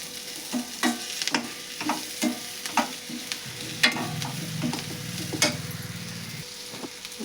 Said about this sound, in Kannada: ಇದನ್ನೆಲ್ಲ ಮಿಕ್ಸ್ ಮಾಡ್ಕೊಳ್ಳೋಣ ನಾವು ಈ ಒಗ್ಗರಣೆ ಒಳಗೆ.